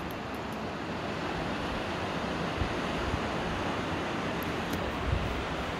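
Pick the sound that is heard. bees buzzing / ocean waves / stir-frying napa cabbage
ocean waves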